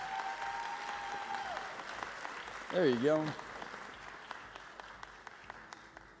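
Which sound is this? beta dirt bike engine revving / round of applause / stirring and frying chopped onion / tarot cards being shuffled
round of applause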